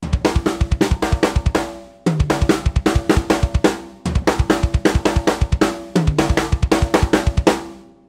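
A loud, close seven-stroke linear drum fill of quick strokes across toms and cymbals, repeated four times in short phrases with brief pauses between.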